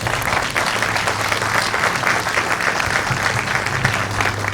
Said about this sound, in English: Could I have a round of applause for all of them?